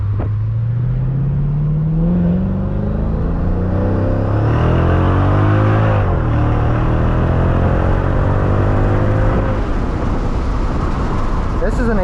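A 2005 Mercedes-Benz CL55 AMG engine climbs and falls in pitch as the car swings through a U-turn, a loud, sustained drone rising, dipping and revving again, with someone talking over it.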